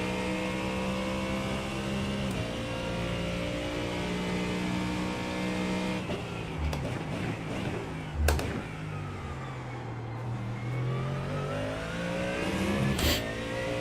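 GT3 race car engine at Sebring in iRacing, a loud continuous roar climbing and falling through the gears. Sharp downshifts and revs punctuate corner entries, with brief crackles from the exhaust.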